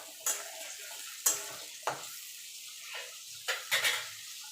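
A paste of raw tomato, ginger and green chilli fries in a pan with a faint, low sizzle, punctuated by several sharp taps and scrapes of a spoon stirring it.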